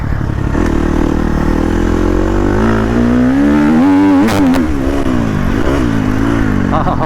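A dirt bike engine revs hard while ridden, its pitch climbing and falling through throttle bursts, loud and close throughout with some clattering mechanical noise.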